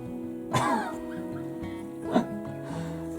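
A dog gives two short, sharp vocal bursts, a bark or whimper about a second and a half apart, close by over a steady humming background.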